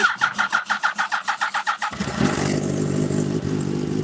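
A car engine cranks with rapid rhythmic pulses for about two seconds, then catches and settles into a loud, steady rumbling idle close by.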